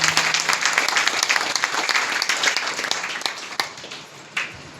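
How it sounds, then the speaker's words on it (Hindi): A crowd at a Hindi talk gives loud, sustained applause as a speaker is invited up, dense clapping filling the room and tapering slightly toward the end. "एक बार जोरदार ताली नरेश भैया के लिए"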